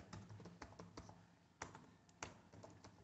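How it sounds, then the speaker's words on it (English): Typing on a computer keyboard while entering a name in Salesforce Process Builder: quiet, close, irregular key taps with a few louder strokes, no talking. "type the name of your process builder"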